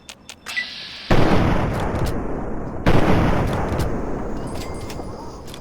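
Assault rifle fire in Fallout 3 with the Chinese assault rifle, an AK-style weapon: two loud, close bursts of rapid shots, each trailing into a long rumbling echo, with a few faint clicks and pops before the first burst.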